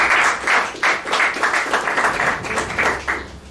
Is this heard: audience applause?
yes